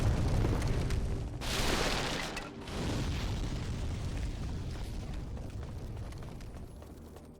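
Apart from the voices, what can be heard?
loud explosion effects in video game Demon's Souls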